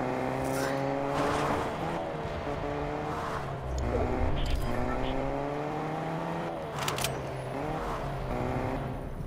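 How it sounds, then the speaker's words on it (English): A car engine in a video game hums and revs nearby, its pitch rising and falling as it drives past, with tire squeals and a player talking over the game sound. "I can hear a car."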